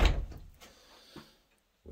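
Front door of a bungalow opening, a loud initial thump and rattle followed by a fainter click and quiet, then a brief rise of noise at the end.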